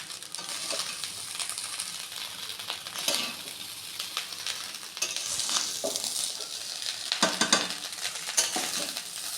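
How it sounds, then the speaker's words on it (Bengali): Fried rice cooked in ghee sizzles in a pan while it is stirred, with a steady hiss and repeated scraping and clinking from the spatula against the pan, close and continuous, with no talking. "এবার আমি নাড়ানাড়ি করবো, একটু ভাজা ভাজা হয়ে গেলে তারপর নামিয়ে নেব"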